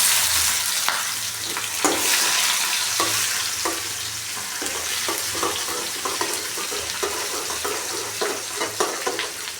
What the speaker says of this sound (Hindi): अब डाल देंगे इतना सारा इसमें हम प्याज